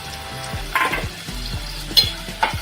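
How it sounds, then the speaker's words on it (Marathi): Finely chopped onion hits hot oil with garlic in a pan for a Maharashtrian curry, giving a sizzling fry with short bursts of spatula scraping and stirring clatter, close and fairly loud. "आता आपण त्यात टाकणार आहोत बारीक चिरलेला कांदा"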